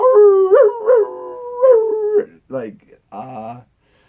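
A person imitates a dog, letting out a long wavering howl followed by a few yelps and whimpers, loud and close.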